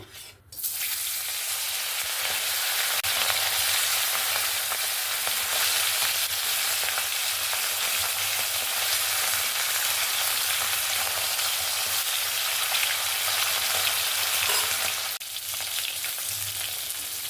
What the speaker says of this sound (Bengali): কড়াইটা আমার এখানে সুন্দরভাবে গরম হয়ে গেছে তেলটা এবার আমি মাছটা দিয়ে দেবো